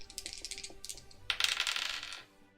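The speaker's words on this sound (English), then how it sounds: "Oh, there go the dice." Dice rattle and tumble across a surface during a tabletop role-playing game, a quick clatter of small hard clicks that builds into a denser burst of rolling before stopping abruptly.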